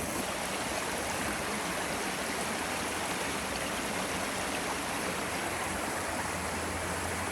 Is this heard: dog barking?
no